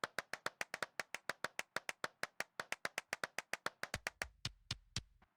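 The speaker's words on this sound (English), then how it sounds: "I'm clapping" Hands clap steadily inside an abandoned church, about thirty sharp, evenly spaced claps that ring close and crisp, spacing out toward the end with a faint low rumble underneath.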